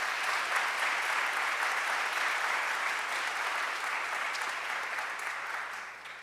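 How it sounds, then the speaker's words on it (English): Audience applause for a group of young women fellows at a women-in-politics leadership event, a steady dense clapping from a large crowd that holds strong throughout and eases slightly at the end. "Give these young people a round of applause"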